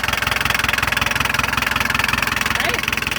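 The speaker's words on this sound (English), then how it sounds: "as you can hear, it makes quite the racket. But it's cool being a diesel." A diesel engine in a collector car, painted GM blue, runs loud and close with a fast, steady knocking clatter, while people talk over it.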